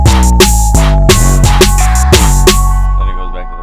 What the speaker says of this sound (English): then I do the transition 808, where I just have it go up and then down